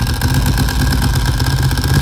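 Custom Ducati Streetfighter 1098S with a Termignoni exhaust, lightened flywheel and high-compression pistons, idling loud and close with a steady, lumpy V-twin throb and no pauses.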